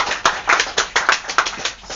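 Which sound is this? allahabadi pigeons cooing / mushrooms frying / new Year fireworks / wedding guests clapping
wedding guests clapping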